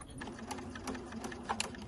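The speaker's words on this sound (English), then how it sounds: "sewing the strips of denim and the strips of fabric in between the bunnies and just sewing them all down" A sewing machine runs steadily, stitching strips of denim and fabric down between bunny-shaped rustic decorations made from denim scraps, with a continuous motor hum and rapid needle clatter throughout.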